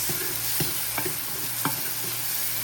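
Tomatoes with salt being stirred in a pan sizzle steadily over a low hum, with a few spaced spatula scrapes and taps close up.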